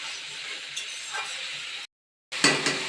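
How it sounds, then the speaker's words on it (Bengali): Ekadashi chowmein fries in a pan, a soft sizzle with stirring clinks and scrapes that stops briefly, then returns louder with sharper metallic taps; no voices. "এটা আমি ভাজা ভাজা করে এখন নামিয়ে দিলেই হয়ে যাবে একাদশীর চাউমিন।"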